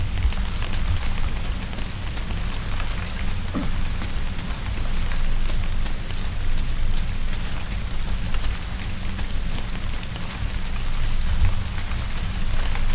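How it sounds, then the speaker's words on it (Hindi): Steady rain falls in the dark side-scrolling game INSIDE, a dense, even hiss with scattered droplet taps and a low rumble underneath, continuous and fairly loud throughout with no one talking. "बारिश की आवाज़ कितनी मस्त आ रही है"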